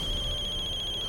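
An electronic telephone ring, a steady high warbling tone, sounds alone for a brief moment.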